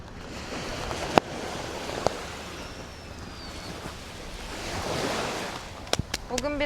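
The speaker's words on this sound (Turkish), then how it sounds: "birazcık su dalgalı" Waves wash onto a sandy sea shore in choppy, murky water, a steady broadband surf that swells around the middle, with wind and a few sharp knocks and clicks near the end.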